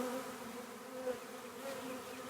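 A honeybee swarm moving into empty hive equipment gives off a soft, continuous buzzing hum. The swarm sounds close, and the hum rises and falls a little.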